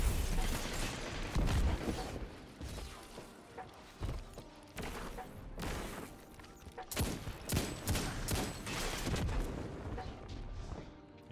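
Gunfire in a Destiny 2 Trials match, with loud, sharp shots and booms arriving in irregular bursts and several spread-out single blasts over a game mix.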